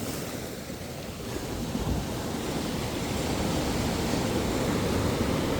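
Sea waves roll onto the shore at high tide, a broad continuous wash of surf blended with wind that swells slightly louder partway through and stays steady, with nobody speaking.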